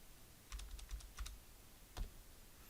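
Quick bursts of keystrokes on a computer keyboard, a rapid run of light clicks followed by a single firmer tap, close and faint in a quiet room.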